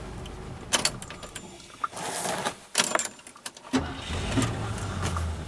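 A Ford Ranchero with a new starter, new electrical system and fresh tune-up cranks and starts, with clattering mechanical noises and bursts before the engine settles into a steady low idle near the end.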